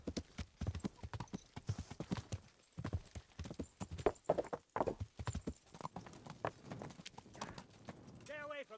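Horse hooves clip-clop steadily and close in the medieval video game Kingdom Come: Deliverance, a brisk rhythmic patter that fades near the end as a short horse snort comes through, with talking heard at points.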